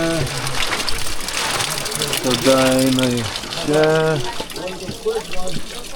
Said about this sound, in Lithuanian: čia vandens sistemėlė, vanduo teka čia